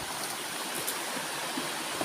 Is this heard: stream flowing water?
yes